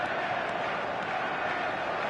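A stadium crowd in a football video game keeps up a steady, dense roar of massed voices at even loudness, with commentary speech mixed in.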